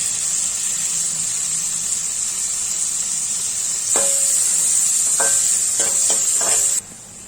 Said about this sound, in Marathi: आता ह्यामध्ये कांदा, आता परतून घेऊ